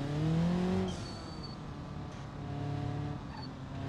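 A race car in the video game BeamNG.drive on a rocky, difficult track, engine loud and close, revving high before dropping in pitch as it downshifts, then droning steadily with faint tire noise.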